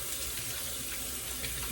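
Water runs steadily from a bathroom tap while hands are rinsed during a shave with a Gillette Psycho Tech razor, a close, continuous splashing hiss throughout.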